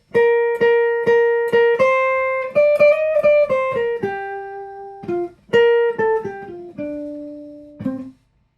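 A clean guitar plays bars 5 to 8 of Wayne Shorter's jazz tune "Footprints" in single plucked notes, starting with quick repeated notes, then descending phrases and a held final note.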